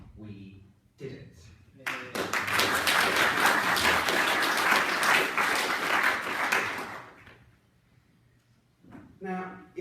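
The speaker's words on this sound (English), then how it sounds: "I also think we need a big round of applause for ourselves, because we did it." After brief speech, a burst of loud applause fills a UKIP youth conference hall for about five seconds. It then fades out, and a speaker resumes talking.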